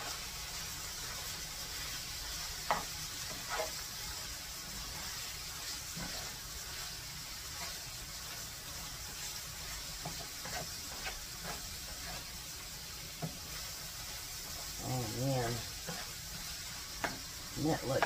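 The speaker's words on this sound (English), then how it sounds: "Let's get all this stirred up." Sloppy joe mixture sizzles steadily in a pan, a constant frying hiss with a few soft clicks and scrapes of a small spoon stirring through it.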